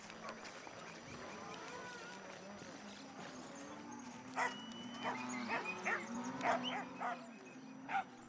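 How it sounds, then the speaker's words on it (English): Working dogs bark on an Argentine cattle ranch, several sharp barks in a cluster partway through, set against distant cattle and a busy outdoor background. "In the background, you can hear cattle and dogs barking."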